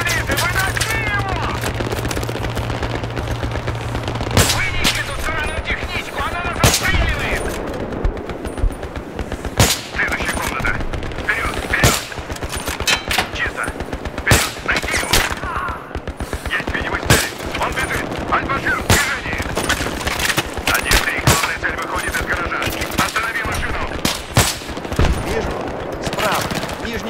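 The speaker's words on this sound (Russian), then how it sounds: "Мы под огнем противника!" Constant loud rifle and machine gun fire with booming explosions fill a night combat mission in the shooter game Battlefield 3, rattling in dense overlapping bursts while soldiers shout orders over the battle.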